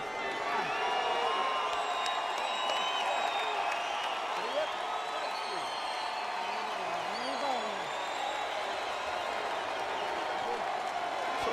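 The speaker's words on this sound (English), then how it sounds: "Sort of a half-hearted cheer from the crowd." Crowd at a boxing match giving a lukewarm cheer, a broad murmuring roar with scattered whoops and some clapping at a distance, steady throughout, with an arena voice audible beneath.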